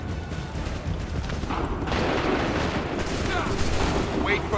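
Musket volley fired on command in the Assassin's Creed III video game, a sustained dense crackle of gunfire and booms filling the whole stretch, swelling louder midway, with voices mixed in.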